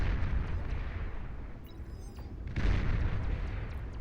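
Heavy cannon fire and explosions from a Thor unit rampaging across a Beyond All Reason battlefield, a dense continuous rumble of booming blasts with a sharper burst around the middle, no talking.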